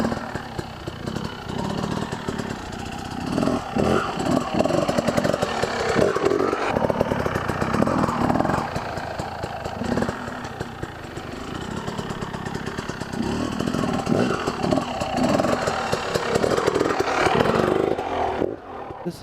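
An enduro motorcycle ridden lengthways along a log, its engine buzzing and revving continuously with rapid throttle blips, fairly close, with a voice talking faintly underneath.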